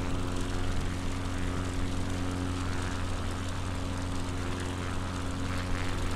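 A light propeller aircraft drones steadily in flight near Aberdeen on a UK coastal tour, a constant loud engine hum with a strong low tone, heard from inside the cabin without any talk.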